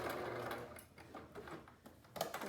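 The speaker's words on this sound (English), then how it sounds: "As you see, I do reverse stitching on each pleat" Sewing machine running in short bursts while reverse stitching the pleats of a fabric face mask, a close, steady mechanical whir that stops and restarts with brief pauses.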